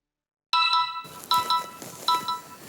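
A phone ringtone plays loud and clear in a courtroom crime drama, a bright repeating melodic pattern of tonal chirps that starts abruptly after a moment of silence and recurs in short bursts.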